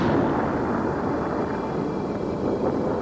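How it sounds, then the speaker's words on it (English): A deep, rumbling explosion effect for a supernova rolls on as one sustained roar, loud and low, with no distinct onset or break. "The resulting explosion is a supernova."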